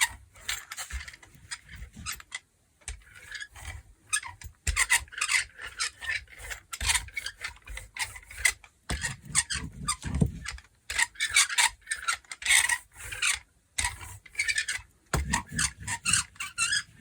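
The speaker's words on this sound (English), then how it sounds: "Sorry about the noise that this roller is making." A paint roller squeaks and rasps as it rolls paint across a gelli printing plate, a close, scratchy squealing that comes in repeated strokes with brief pauses between them.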